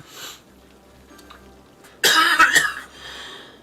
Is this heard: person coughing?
yes